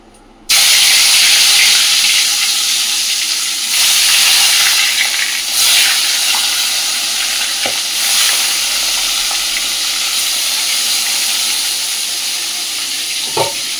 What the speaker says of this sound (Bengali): তো ফটফট করে তো ফাটবেই।